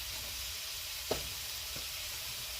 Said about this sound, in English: also adding the onions to cook that down for a little bit